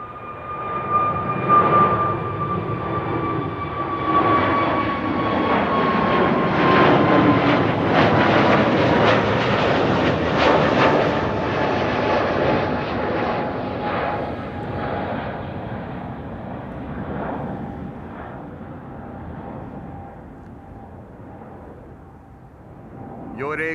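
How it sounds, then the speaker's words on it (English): A KLM Airbus A321neo jet departs Amsterdam Schiphol, its engine roar building to a broad, loud rush with a falling whine, then slowly fading into the distance. "Time for the next departure here. A321 Neo. On its way to bloody Helsinki in Finland."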